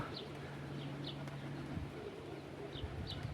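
Young racing pigeons coo outdoors in a low, steady murmur, joined by a few short, higher chirps now and then, with no voices.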